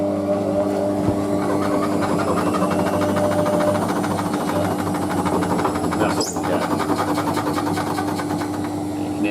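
A Hotpoint washing machine with worn shock absorbers spins fast on a final spin, giving a loud, steady mechanical drone with rattling and a brief knock partway through.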